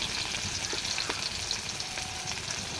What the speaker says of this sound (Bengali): প্রথমে দিয়ে দিলাম সরিষার তেল, দিয়ে দিলাম পেঁয়াজ কুচি